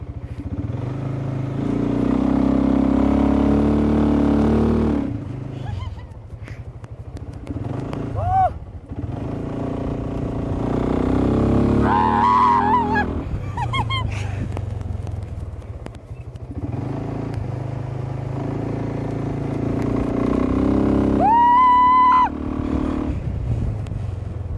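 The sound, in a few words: BMW C1 scooter riding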